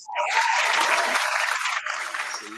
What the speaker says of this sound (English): round of applause for that one, Nitty.